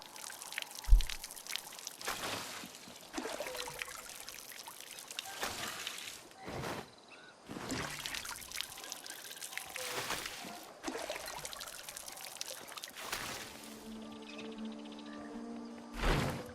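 Water pours in the RuneScape Dragonwilds video game, several splashing bursts of a few seconds each, fairly faint, separated by short pauses.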